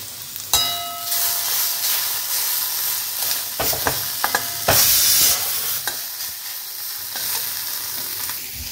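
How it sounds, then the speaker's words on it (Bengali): Small mola carplet fish fry in a pan with a steady, fairly loud sizzle, broken by scraping stirs and a burst of hissing spatter midway; no one speaks. "আর এইখানে মৌরলা মাছ ভাজা হচ্ছে"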